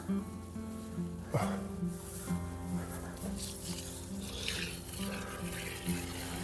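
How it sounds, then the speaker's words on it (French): Water splashes and patters steadily while a vegetable garden is watered, with running water heard close and continuous against a low background hum. "Et on arrose."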